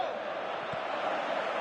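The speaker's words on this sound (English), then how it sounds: "you can hear how the crowd are reacting to this too" A stadium crowd in the football video game PES 2018 gives off a steady, fairly faint roar of cheering for the full moment, with no distinct peaks.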